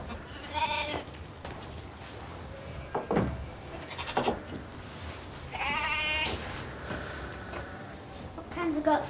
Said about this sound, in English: What kinds of goats are these?